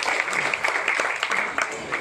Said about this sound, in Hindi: एक बार जोरदार तालियां हो जाए तो राहुल जी।